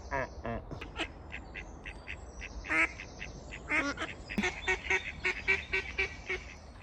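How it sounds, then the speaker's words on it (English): Ducks quack along a canal, a busy run of loud nasal calls coming in quick bursts and overlapping one another, close by, with a few honks mixed in. "had a look at some ducks"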